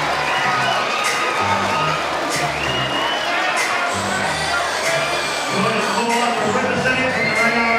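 An arena crowd on its feet roars and cheers after a women's fight ends in the final second, a continuous, loud, excited wall of shouting and clapping with music pulsing underneath.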